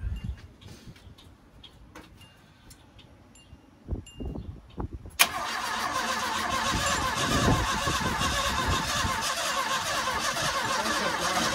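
Quiet clicks and a few thumps, then the engine of a 1977 Ford Mustang II, unused since 1989, abruptly cranks to life in a loud, steady mechanical churn that continues to the end.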